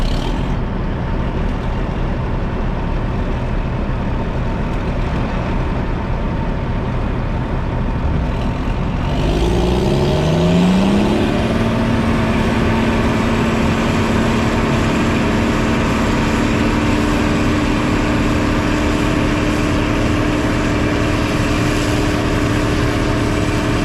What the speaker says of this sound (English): We're starting up the chopper.